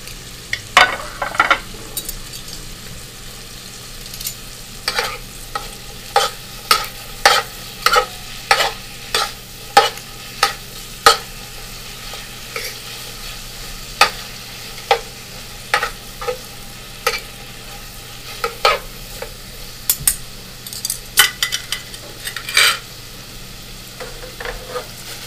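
Prosciutto frying in a pan with onions, garlic and plum tomatoes, a soft steady sizzle broken by repeated sharp scraping clicks of stirring, irregular and close.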